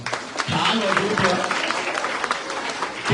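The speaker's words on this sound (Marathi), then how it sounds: "जरा आमच्या ओवीसाठी टाळ्या झाल्या पाहिजे" Audience applause at a Shiv Sena fort-building and rangoli competition prize ceremony, a steady dense wash of clapping filling the whole stretch with a loud, crowded texture and some voices mixed in.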